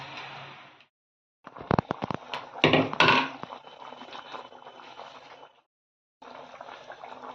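A Bengali fish mixture is poured into an unoiled saucepan, bringing a few seconds of wet splashing and crackling bursts that settle into a softer hiss, framed by short quiet gaps.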